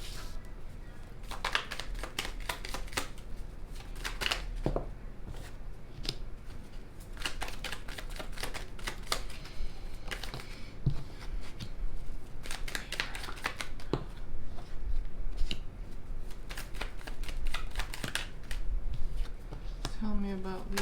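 Tarot cards are shuffled repeatedly in quick, crisp riffles and taps close to the mic, while a voice talks over the rustling.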